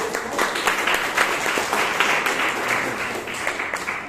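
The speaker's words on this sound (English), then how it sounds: "give him a round of applause" Audience applause at a Toastmasters club meeting in Bangalore, a dense, steady clapping from a roomful of people lasting about four seconds at even loudness.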